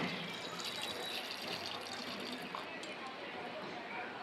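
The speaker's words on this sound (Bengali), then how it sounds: "এবার মটরে দিয়ে দিব আমি জল" Water pours steadily into a pressure cooker over dried peas that soaked for four to five hours, a continuous close splashing rush that lasts throughout.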